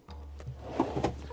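A drawer slides and thumps shut in the kitchen of a 2022 Newmar New Aire 3543 motorhome, a couple of soft close knocks over a low steady hum.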